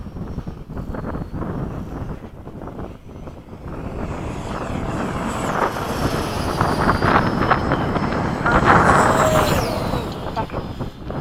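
A Freewing RC model jet, an 80mm F-5 or F-14, roars past with a turbine-like whine that swells, dips and swells again as it loops back toward the runway, mixed with wind buffeting on the microphone.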